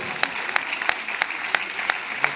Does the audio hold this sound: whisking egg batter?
no